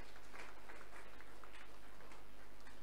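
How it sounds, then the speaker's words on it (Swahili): A church congregation claps together after a prayer, producing a faint, sustained patter of applause over a low electrical hum. "Tuwapigie makofi makubwa sana."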